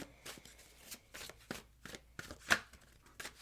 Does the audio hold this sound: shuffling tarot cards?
yes